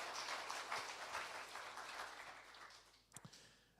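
A church congregation at a Sunday service claps in applause, fairly quiet and diffuse, fading away over a few seconds with a few sharper knocks near the end.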